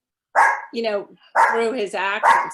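A pet dog barks close by in a few sharp, yelping bursts, loud and overlapping a man's speech in a home setting.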